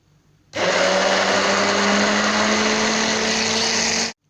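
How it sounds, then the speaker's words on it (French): A blender whirs loudly and steadily for about three and a half seconds, mixing soaked ingredients for a face remedy, then cuts off abruptly. "On les fait passer au blender pour les mixer"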